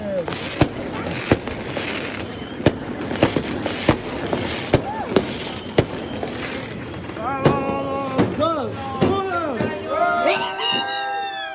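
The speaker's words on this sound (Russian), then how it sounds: "Ребята, у нас салюты." Sharp New Year fireworks bangs pop repeatedly in Peru, then whistling rockets rise and crackle near the end, with people talking and cheering underneath.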